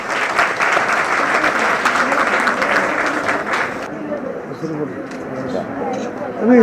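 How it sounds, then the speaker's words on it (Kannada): Loud, dense clapping from an audience in a hall during a World AIDS Day event in Kalaburagi, sustained for about four seconds and then thinning out, with voices and chatter continuing underneath. "ಜೋರಾಗಿ ಚಪ್ಪಾಳೆ ತಟ್ಟಿ ಇನ್ನೊಮ್ಮೆ."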